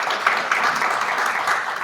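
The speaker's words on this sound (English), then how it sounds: "Please clap it up for Ella, please." A conference audience claps for a speaker, the dense applause steady and fairly loud throughout, with a few sharper individual claps poking through.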